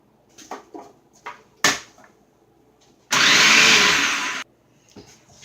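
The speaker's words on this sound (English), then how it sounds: "So on my food processor, I've got a slicing unit" A food processor fitted with a slicing unit cuts mushrooms: a few light knocks and clatters, then a loud whirring motor burst of just over a second, followed by more small knocks.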